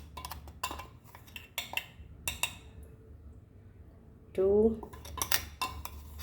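Metal spoons clink repeatedly against a pot or bowl while ingredients for 1 kg of meat are measured out, sharp close ticks scattered among a person counting aloud.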